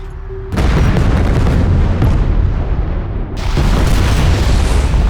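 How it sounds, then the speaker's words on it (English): Demolition charges detonated in the Homeworld: Deserts of Kharak video game produce a sudden heavy boom, followed by a second blast a few seconds later, with a loud, sustained rumbling roar between and after them. "Pull back to a safe distance and initiate detonation."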